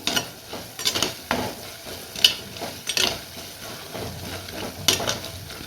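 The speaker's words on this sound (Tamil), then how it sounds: "ஒரு ஸ்பூன் மல்லித்தூள் இப்போ எல்லாத்தையும் சேர்த்து நல்லா வதக்கி விட்டுடுவோம்" Masala with coriander powder stirred and sautéed on a stove for a village-style anchovy fish curry, with repeated scraping strokes of a spoon in the pan over a faint sizzle, no voices.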